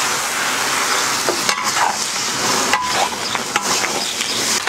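Beef offal stir-fried in a wok with garlic, cinnamon and star anise hisses loudly and steadily, broken by occasional sharp spatula knocks and scrapes against the pan.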